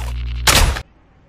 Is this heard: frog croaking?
no